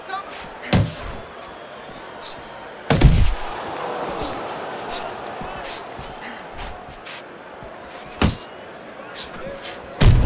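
Punches thud in a Fight Night Champion boxing simulation between Oleksandr Usyk and Filip Hrgovic, with several sharp, loud impacts landing at irregular intervals over steady crowd noise and commentary.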